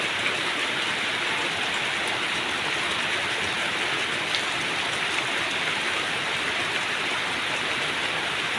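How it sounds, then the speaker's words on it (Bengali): Heavy rain pours down outside a house, a steady, even hiss of drops drumming on surfaces with no pauses and no voices. "খুব বৃষ্টি হচ্ছে দেখো"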